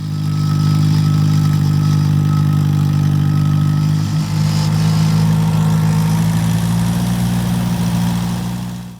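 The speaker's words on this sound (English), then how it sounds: "the tractor brought up more carpet and other junk" A tractor engine runs steadily in an overgrown garden being cleared, a loud, close, continuous mid-pitched drone with a slight dip partway, and no talking.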